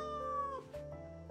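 A cat meows in the cozy video game Calico: one drawn-out, tonal meow over a soft, sustained musical backdrop, followed by a shorter, quieter mew.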